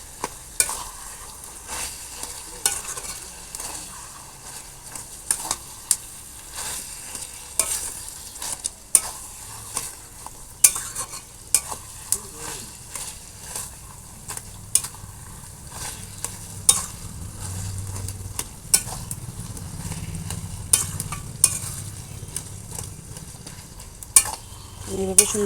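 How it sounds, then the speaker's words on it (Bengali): Vegetables being stirred in a frying pan for vegetable chop, a steady sizzle broken by repeated sharp scrapes and clacks of the utensil against the pan, close up, with no talk. "ভালো করে সুন্দর করে সবজিগুলো দিয়ে মিক্স করে নেব।"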